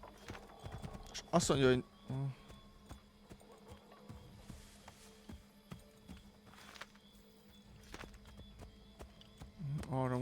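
A horse's hooves clip-clop in the Assassin's Creed video game, a rhythmic run of hoofbeats with a short neigh early on, heard under a person talking.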